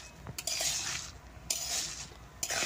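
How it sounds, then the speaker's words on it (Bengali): Masoor lentils and chilli fry in a pan, a bright steady sizzle broken by three sharp metallic clinks and scrapes of a spatula stirring, close and alone. "ডাল মরিচটা বেশ সুন্দর নাল করে বাইজা নেবো, মশমশা হবো।"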